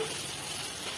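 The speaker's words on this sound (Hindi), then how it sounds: "इसे हम फ्राई करेंगे।" Boiled beef fries in a pot for yakhni pulao, making a soft, steady sizzle with faint crackle. It runs continuously throughout.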